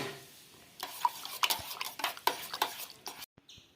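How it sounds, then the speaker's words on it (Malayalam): A spoon stirs salt into spiced buttermilk (sambharam), making rapid, irregular clinks and scrapes against the vessel for a few seconds before stopping. "ഇത് നന്നായിട്ട് മിക്സ് ചെയ്ത് കൊടുക്കുക."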